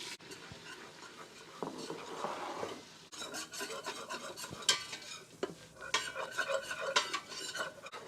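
A spoon scrapes and stirs flour into a ham and potato casserole mixture, making rhythmic rasping strokes against the pot, close and fairly quiet, with no talking.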